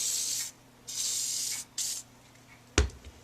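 Liquid Wrench penetrating oil sprays onto rusted screws during a 1927 Atwater Kent Model 37 radio restoration, three close hissing bursts followed by a single sharp thump.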